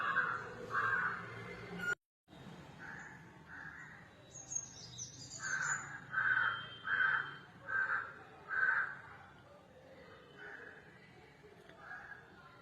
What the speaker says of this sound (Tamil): இங்கே பால்கனியில் வர்றது ஃபுல்லாக அண்டங்காக்கா தான் வருது